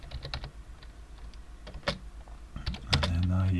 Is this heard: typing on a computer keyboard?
yes